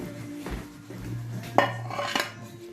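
Ceramic clatter of a plate being set down, with a couple of sharp clinks and scraping of dishes and utensils nearby.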